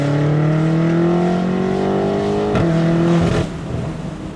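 A 765 hp stage 2 tuned BMW M8 Competition cabriolet accelerates hard with a loud, close engine roar rising steadily in pitch, broken by quick gear shifts before the sound eases off.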